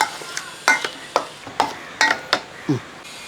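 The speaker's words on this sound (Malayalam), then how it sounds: "ആ മുട്ട ഒഴിച്ചതിന് ശേഷം ഒന്ന് ഉടനെ ഇളക്കി" Chicken is stirred in a pan right after beaten egg goes in, a series of about ten sharp spoon scrapes and taps at an uneven rhythm over a faint sizzle, close and clear.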